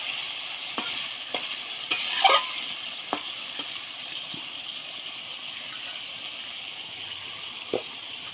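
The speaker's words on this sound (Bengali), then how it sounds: "মাছটা নাড়াচাড়া করে নেব।" Loitta (Bombay duck) fish cooks in a pan for a bhapa dish and is stirred with a utensil. A moderate, even sizzle carries several distinct clicks and scrapes, with a brief bubbly burst of liquid near the start. No one talks.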